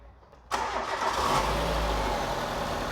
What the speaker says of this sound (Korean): 시동 걸어주세요.